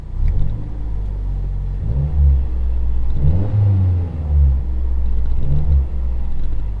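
A 2012 Mazdaspeed 3 with a newly installed rear motor mount drives along, its mid-pitched engine rumbling steadily from inside the car with a few short revving surges as the throttle is pressed.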